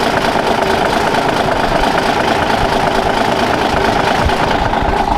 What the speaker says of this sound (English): so this here is actually a Cummins 380 horsepower engine